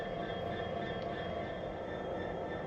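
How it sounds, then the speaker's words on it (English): Steady, close train engine idle from a train game in development, a continuous low droning rumble with even humming tones and no talk. "Because not only is it an idle element sound, it's also the train's main sound."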